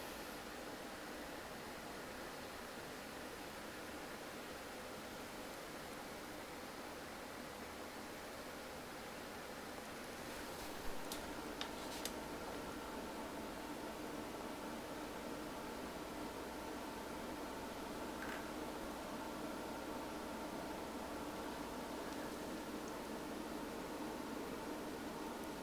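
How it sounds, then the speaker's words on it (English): Case and radiator fans of a be quiet! Silent Base 802 PC running at maximum, a steady, even, quiet whoosh of airflow with a couple of faint clicks partway through. "the case fans and the radiator fans are at their maximum"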